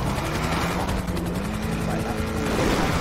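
A police helicopter in GTA V Online drones with a steady, pulsing rotor thump that fills the whole stretch, loud and continuous, as during a chase.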